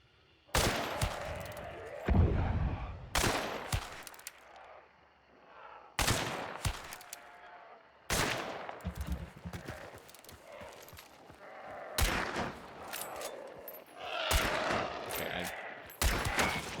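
Gunshots in the video game Hunt: Showdown crack out as repeated loud, sharp blasts a second or two apart, with quieter rustling and movement between them.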